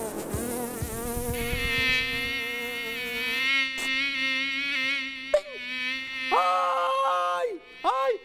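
A swarm of attacking bees buzzes loudly and steadily throughout, a dense, wavering drone with shifting pitch, interrupted by a few sharp knocks and brief cries near the end.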